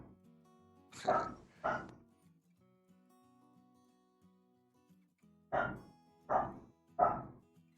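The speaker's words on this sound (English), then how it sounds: "Everybody, my dog says hi." A dog barks nearby in two clusters, first two sharp barks, then after a quiet pause three more evenly spaced barks, loud and clear in an otherwise quiet room.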